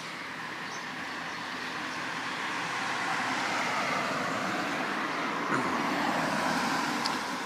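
Steady roadway traffic flows along busy Church Street in Otahuhu, New Zealand, a continuous broadband rumble of passing cars and heavier vehicles that swells slightly midway, with no talk.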